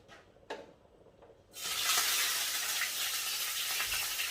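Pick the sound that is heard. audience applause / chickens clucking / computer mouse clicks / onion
onion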